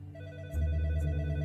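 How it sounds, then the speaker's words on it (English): A desk telephone sound effect rings in a podcast, starting as a low, fairly quiet tone and then swelling into a louder, steady ring with bright metallic bell tones layered on top. "Just then, the phone on Detective Higginbotham's desk rang"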